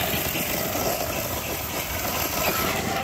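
RC car motor on a Castle Cobra 8 ESC cogging under held throttle, a rough, close electric drone with an uneven, stuttering texture throughout and no talking.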